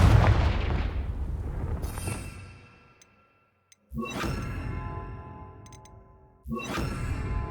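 Three heavy blasts of the Confringo fire spell in Hogwarts Legacy, each a sudden boom with a metallic ringing tail that fades into near silence before the next one strikes.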